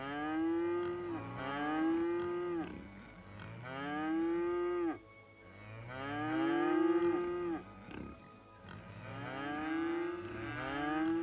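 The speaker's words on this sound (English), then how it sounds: "Lots and lots of mooing." Cattle in the video game Cities: Skylines moo repeatedly, several long drawn-out lowing calls in a row with short pauses between, fairly close and clear.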